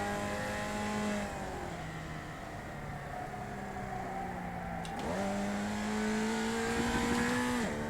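A race car in the iRacing sim drones continuously, its engine pitch climbing and dropping through gear changes with a faint tire squeal, loud and unbroken with no talking.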